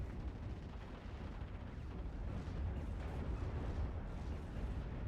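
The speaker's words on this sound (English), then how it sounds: "More Nebelwerfer barrages, however, coming in" A Nebelwerfer rocket artillery barrage lands in a World War II strategy video game: dense, continuous rumbling blasts and crackling detonations rolling together at a low, distant level.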